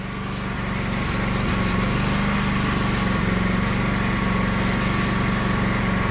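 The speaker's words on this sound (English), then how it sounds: "now what i could do is just take the belt sander put on my either 80 grit or 50 grit" A belt sander fitted with a coarse grit belt runs indoors with a loud, steady motor drone and whine that holds level throughout, with no voices.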